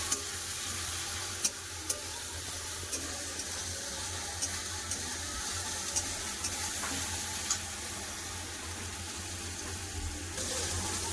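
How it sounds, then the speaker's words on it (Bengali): Ginger garlic paste fries with onions in a pan, giving a soft, even sizzle throughout with occasional faint clicks of stirring, fairly quiet and with no voices. "আদা রসুন যতক্ষণ কাঁচা গন্ধ যায় ততক্ষণ ভালো করে ভেজে নেবো পেঁয়াজের সাথে"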